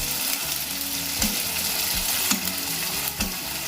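Chicken chaap sizzling and frying in a pan while being stirred, a continuous loud sizzle punctuated by a few sharp scraping clanks of the spatula against the pan.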